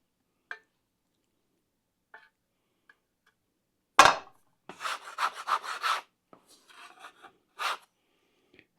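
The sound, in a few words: bench knife scraping flour and dough off the bench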